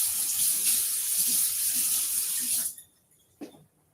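Food is rinsed under a running kitchen tap, water splashing steadily and close for under three seconds before shutting off, followed by a faint clunk.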